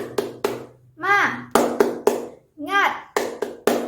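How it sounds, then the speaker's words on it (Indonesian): Classroom clapping chant for primary-school children: sharp, rhythmic hand claps in short groups, close and distinct, alternating with a voice chanting the cheer in sung bursts. "yuk kita tepuk semangat ya, supaya lebih semangat dalam pembelajaran hari ini"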